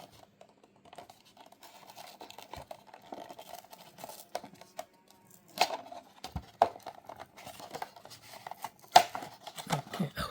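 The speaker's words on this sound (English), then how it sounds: "I tore that card art actually" Cardboard blister card packaging of a Majorette Nissan Z toy car being torn and handled at close range, with scattered scratchy rips, crinkles and soft clicks that are faint at first and grow sharper later.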